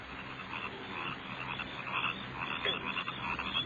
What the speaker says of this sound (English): Damn crickets are getting on my nerves.